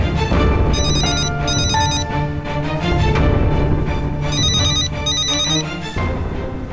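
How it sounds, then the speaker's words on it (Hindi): A telephone rings in two bursts of bright, trilling bell tones over a busy background of music and sound, fairly loud and near. "जरा देखना किसका फोन है।"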